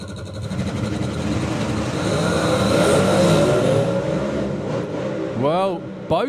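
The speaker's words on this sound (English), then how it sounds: "both of them spin off the line once again" Pro Modified drag race cars launch off the line with tires spinning, a loud, sustained engine roar that fills the whole stretch and dips briefly toward the end.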